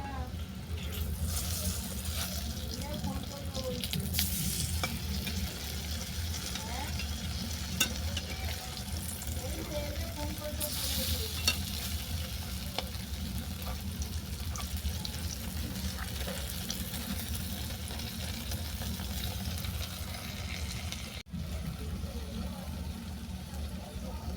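Coconut puris frying in butter (ghee) sizzle steadily in a pan while being turned over, a continuous frying hiss with soft stirring and flipping sounds and some talk in the background.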